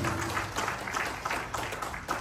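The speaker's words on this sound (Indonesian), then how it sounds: "Beri tepuk tangan yang meriah bagi anak kita" Applause from a church congregation at a Christmas celebration, given for a child: a short stretch of steady clapping at moderate level, with no clear voice over it.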